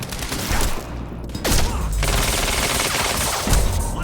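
Rapid gunfire in the video game Quantum Break rattles in dense bursts, loud and close, with heavy booming impacts punctuating the continuous shooting.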